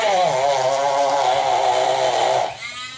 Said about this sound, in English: just take my Dremel and make a little notch for my nub here